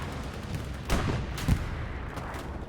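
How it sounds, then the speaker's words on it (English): A tank shell slams into a Panzer IV during a Hell Let Loose match, two heavy booming impacts about half a second apart rising over a constant rumble of distant battlefield noise. "Front shell goes into the Panzer IV from the enemy medium"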